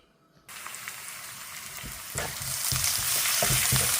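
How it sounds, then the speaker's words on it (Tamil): Sliced onions begin sizzling loudly as they hit a hot pan, frying toward golden brown for a radish stir-fry, with a steady crackle and occasional stirring clatter, no voices. "வெங்காயம் நல்லா பொன் வறுவலாக பார்த்துக்கிட்டேன்"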